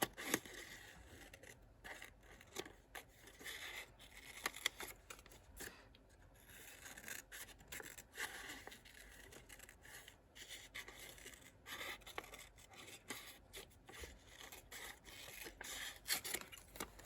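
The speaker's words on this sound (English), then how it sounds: "These are new to me scissors, these Fiskars squeezy ones." Soft, repeated snipping and rasping as Fiskars squeeze scissors work through paper, quiet and close, in irregular bursts with no talking.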